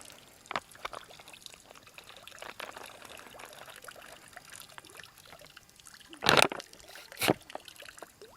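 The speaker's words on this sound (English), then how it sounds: "you can see how that water pours through that." Water pours and splashes through a filter bag in two short bursts over a quiet background, with faint trickling in between.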